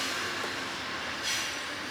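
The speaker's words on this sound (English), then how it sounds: "there's a train going by" An Amtrak train rolls past nearby with a continuous broad rumble and rushing roar, swelling slightly near the end, no voices over it.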